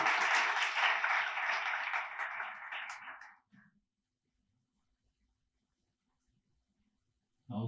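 An audience at a homeopathy workshop bursts into loud, dense clapping that holds for about three seconds, then fades out into silence before a brief sound at the very end.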